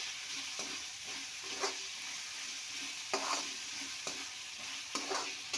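Spatula stirring avarekalu upma in a pan, with repeated scraping strokes about once a second over a steady low sizzle, close and clear, no voices.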